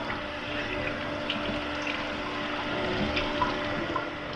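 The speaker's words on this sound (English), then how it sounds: "you're just going to rinse it off really good" Tap water running into a sink as a steak is rinsed under it, a steady, full rush of splashing water close by without pause and no voices.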